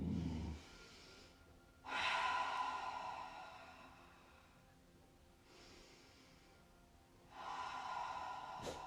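Slow, audible breaths, long airy inhales and exhales with quiet gaps, during a gentle yoga class, close and soft with no talking.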